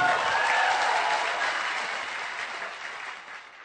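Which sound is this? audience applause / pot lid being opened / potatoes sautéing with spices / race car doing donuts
audience applause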